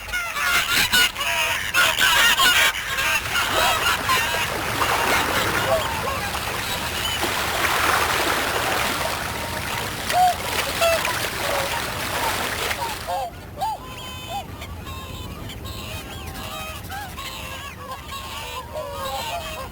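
Swans landing on winter floodwater, with honking calls and splashing and wing noise on the water, loud at first and then quieter; someone talks over the sound.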